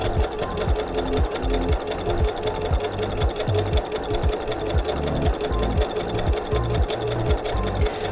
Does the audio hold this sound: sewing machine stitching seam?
yes